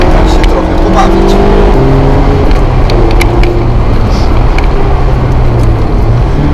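A 2015 Mazda MX-5 drives along a winding road, its engine droning loud and near with rising and falling tones as it shifts and pulls through the bends, with steady road and wind roar underneath.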